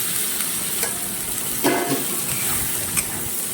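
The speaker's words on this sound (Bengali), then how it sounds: "এবার ডালটাকে ভালো করে কষাই করতে হবে মাংসের সাথে।" Soaked lentils frying with meat in a pan, a loud steady sizzle with spatula scrapes and a couple of clattering stirs.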